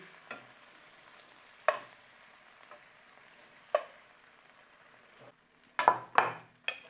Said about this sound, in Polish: I podsmażone mięso zdejmuję z patelni.